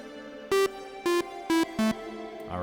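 A bell-like tone from the Synapse Audio Obsession synth plays four descending notes, each followed by a soft octave-up shimmer reverb tail, ending with a low rising swell.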